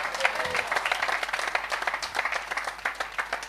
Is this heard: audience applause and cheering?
yes